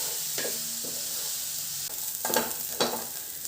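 Dry prawns fry in a pan with a constant sizzle, and a spoon stirs them in a few distinct scraping strokes. Two louder scrapes come near the end, close up, with no talking.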